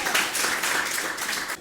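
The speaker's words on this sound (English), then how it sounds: "give her a round of applause" Applause follows a song, a dense, steady wash of many hands clapping at moderate loudness, brief and without talk.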